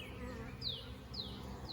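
A swarm of honey bees buzzes steadily in the morning around a box and a tree, a low continuous drone with a few higher passing whines from individual bees.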